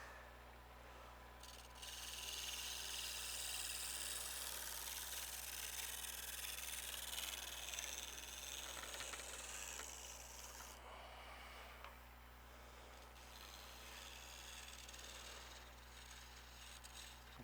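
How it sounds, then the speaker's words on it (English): A negative rake scraper working the bottom of a turned wooden bowl on a lathe, giving a steady, faint rasping scrape over the low hum of the machine, with brief pauses and changes in pressure. "Because the negative rake scraping is not aggressive, it's super easy to control."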